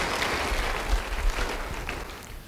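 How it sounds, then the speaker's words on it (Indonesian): A church congregation applauds during a sermon, producing a moderate, even wash of clapping that fades slightly toward the end. "Beri tepuk tangan bagi dia."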